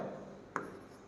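Brief marker or chalk stroke on a board during a programming lesson, a short soft scratch with a faint tap, quiet and close.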